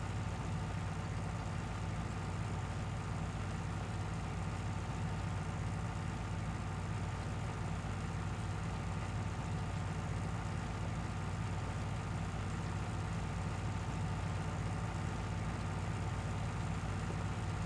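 A 180-horsepower tractor in Farming Simulator 19 runs steadily throughout, a constant low diesel drone with no breaks, rolling along at about 15 miles an hour.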